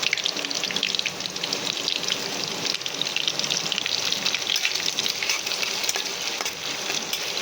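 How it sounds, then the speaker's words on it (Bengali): Chopped onions frying in hot oil in a wok for chicken korma, giving a steady, dense sizzle and crackle that holds evenly throughout with no talking. "পেঁয়াজ কুচি দিয়ে দিচ্ছি। এইটাকে আমি ভালো করে লাল করে ভেজে আমি তুলে নেব।"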